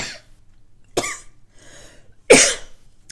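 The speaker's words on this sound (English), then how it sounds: "I will be coughing." Three close, harsh coughs spaced about a second apart, the last the loudest, with quiet breathing between them.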